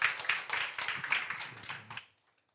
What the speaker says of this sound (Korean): 우리 격려의 박수를 다시 한번 좀 부탁드립니다.